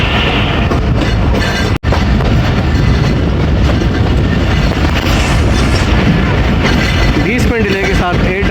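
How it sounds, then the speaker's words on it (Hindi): The 8 Down Tezgam Express rolls into platform 4 at Lahore Junction with a loud, steady roar of wheels and rail noise. A voice comes through near the end. "साथ 8 डाउन तेज़ गाम का अराइवल हो रहा है लाहौर जंक्शन के प्लेटफार्म नंबर 4 पे।"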